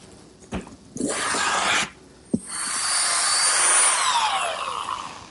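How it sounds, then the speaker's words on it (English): A power drill whirs through wood in two bursts separated by a click, the second longer and rising in pitch as the bit bores pilot holes for screws. "When I pre-drill the holes for the screws which will hold the top on"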